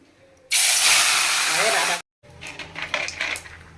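Small tengra fish are dropped all at once into hot oil, setting off a loud burst of sizzling hiss that cuts off abruptly, followed by quieter clinks of cookware.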